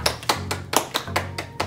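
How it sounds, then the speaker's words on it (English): A few people clap their hands in a loose, uneven rhythm, about eight sharp claps close by over a low steady hum, with no talking. "Everybody clap."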